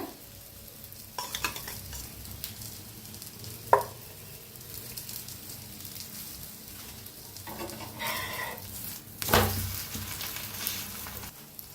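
An egg flatbread (poli) frying in oil in a pan gives a faint, steady sizzle, broken by a few sharp clicks and scrapes from a utensil.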